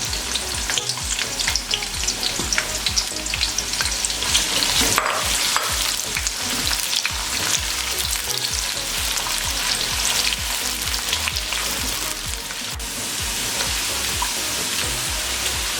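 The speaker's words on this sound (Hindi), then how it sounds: "उसको गोल्डन होने तक फ्राई करेंगे।" Two medium onions frying in half a cup of oil in a pan for biryani, a loud dense crackling sizzle that continues steadily throughout with no voices.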